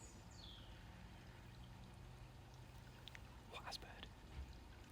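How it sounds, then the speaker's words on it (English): Water from a pond filter pump trickles back into a garden pond from a slight height, a steady soft splashing wash with faint chirps and people talking quietly over it. "runs into the filter system that keeps the water clean, and that sort of like trickles back into the pond from a slight height"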